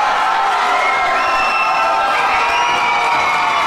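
A crowd of a couple hundred fans cheers and shouts at a wrestling show in a high school gym, a loud continuous roar with children's high shouts rising above it.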